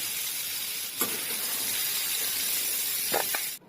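Oil sizzles steadily in a frying pan as pumpkin is fried, a loud, constant hiss broken by two or three brief clinks and stirring sounds before it cuts off.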